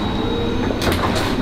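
An indoor door is pushed shut, giving a single short thud and rattle near the end of a brief moment of room noise.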